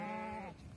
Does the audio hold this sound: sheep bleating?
yes